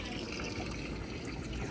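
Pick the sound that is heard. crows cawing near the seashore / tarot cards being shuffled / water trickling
water trickling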